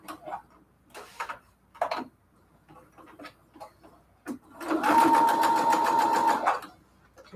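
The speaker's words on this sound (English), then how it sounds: "so let's get to sewing. I'm using an 1/8 inch seam right now." A sewing machine stitches quilted cathedral-window pillowcase pieces with an 1/8 inch seam, starting with a few short bursts and taps before settling into one steady, close whirring run of about two seconds.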